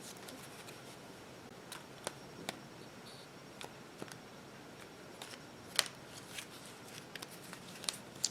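Tarot cards being shuffled by hand, faint soft riffles and scattered crisp little snaps and taps against a quiet background, with no talking.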